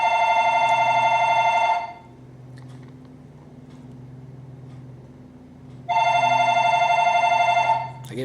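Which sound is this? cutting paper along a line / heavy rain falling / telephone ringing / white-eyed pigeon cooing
telephone ringing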